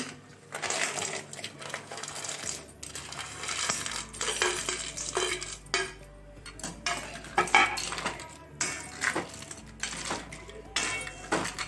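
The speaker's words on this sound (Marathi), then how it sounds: "आता याच्यानंतर आपण हे सर्व खेकडे याच्यामध्ये टाकून घेणार आहोत अशा प्रकारे।" Raw crabs tumble into a cooking pan, producing a run of clattering, scraping knocks against metal with irregular bursts, close and fairly loud with no voices.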